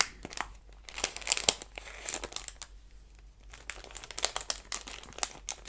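A pack of purple Victorian-style washi stickers is handled, its plastic packaging crinkling and rustling in sharp, irregular bursts with brief pauses, close and fairly loud, with no talking.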